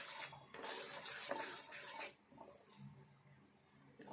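Moong dal and semolina idli batter is stirred in a bowl with a spoon, giving close scraping and rubbing strokes that come in a steady rhythm, louder at first and then easing into softer swirls, with no voices.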